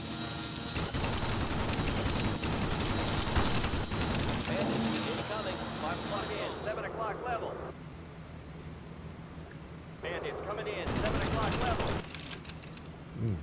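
The chin gun of a B-17 Flying Fortress rattles off in sustained machine-gun bursts during an air battle in a flight game, loud and continuous, with pauses between volleys, mixed with engine drone and someone talking throughout.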